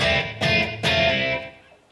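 Electric guitar through a Line 6 Pocket Pod with the reverb switched off, two or three distorted chords struck in quick succession, then left to ring and fade dry.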